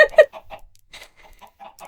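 Chickens clucking on a farm in Minecraft, short game-sound clucks scattered in a loose irregular rhythm, fairly close and moderately loud.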